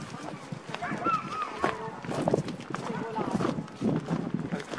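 Horse hooves clip-clopping at a walk near a park of ancient olive trees, light irregular knocks fairly near, mixed in with people chatting over them.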